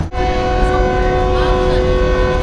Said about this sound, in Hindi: सो विसल हो चुका है, वी आर लिविंग कराची